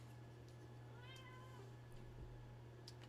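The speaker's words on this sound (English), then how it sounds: "now my cat is getting involved" An indoor house cat meows once, a clear drawn-out meow near the middle, over a steady low electrical hum and faint room noise.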